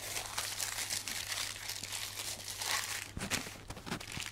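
Baking paper crinkling and crumpling as it is folded around a block of butter for puff pastry, close and soft, with sharper crackles near the end and no talk.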